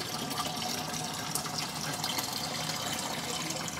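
Water pouring steadily into a container during a float level sensor test, a continuous close gushing and splashing that holds at even loudness without pause or talk.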